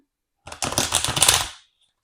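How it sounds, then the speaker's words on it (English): A deck of playing cards is shuffled up close in one quick riffle burst lasting about a second, a dense papery flutter that rises and then trails off into silence. "So let me just shuffle one more time."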